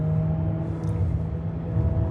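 A Mercedes GLA 200 accelerating in sport mode, a steady loud engine rumble with a low drone and faint whine that holds evenly throughout, with no voices.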